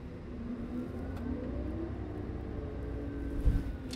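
An articulated dump truck drives at a job site, its engine giving a steady, fairly loud low drone with a faint whine layered above, plus a brief bump or clunk near the end.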